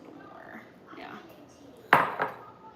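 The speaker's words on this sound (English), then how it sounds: "So I'm gently folding in the blueberries." A utensil folds blueberries into vegan lemon cake batter, producing two soft clinks against the bowl close together over a faint, low background.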